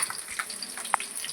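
Garlic frying in hot oil with mustard seeds, fenugreek and green chilli, giving a low steady sizzle punctuated by soft crackles and one sharper pop, with no voices.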